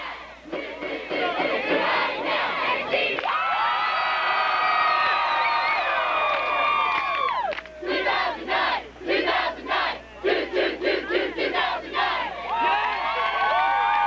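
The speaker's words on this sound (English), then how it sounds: "While the band's taking a break during the third quarter, the cheer squad is working their hardest to get the crowd pumping." A high school football game crowd cheering with cheerleaders, loud sustained shouts and whoops that rise and fall, then break into rhythmic chanted bursts.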